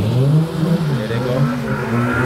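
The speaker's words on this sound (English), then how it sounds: "This is street racing, peeps," Street racing cars accelerate hard in Montego Bay, Jamaica, with loud rising engine revs that sweep up and fall away as they pass, mixed with crowd noise and some shouting.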